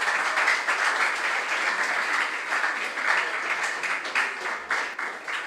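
Steady audience applause for school contestants at a junior science and maths quiz final, a dense even patter of many hands clapping continuously.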